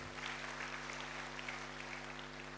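Church congregation applauds during a sermon, a steady, faint wash of many clapping hands over a constant low electrical hum.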